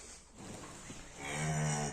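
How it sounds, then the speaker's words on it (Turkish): A cow inside a barn gives a long, deep moo that swells and grows louder toward the end, heard close with no talking. "Bakalım bizim inek de tosuncuk ne yapıyor."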